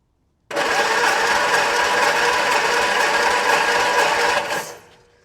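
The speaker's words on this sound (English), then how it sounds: "It's turning over well, I suppose." A Hillman Minx engine cranks over on the starter during a compression test, a steady, fast mechanical churning that runs loud and unbroken for about four seconds, then winds down.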